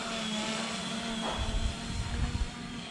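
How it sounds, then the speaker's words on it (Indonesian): Fimi A3 camera drone flying, a steady whining rotor hum heard at a moderate distance with a brief swell in the middle, alone and fairly quiet. "Kita sekarang lagi drone mundur."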